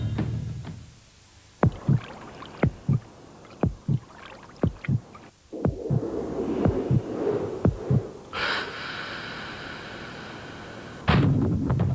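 A heartbeat sound effect in a Ford TDCi diesel advert: deep, spaced thumps over a low hum, followed by a quieter stretch and a brief tonal swell near the end.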